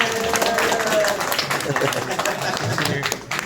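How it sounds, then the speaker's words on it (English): An audience at a comicon panel claps in a scattered, fairly close round of applause that tapers off toward the end, with voices speaking over it. "Y'all give a round of applause for Bowser in back of the room."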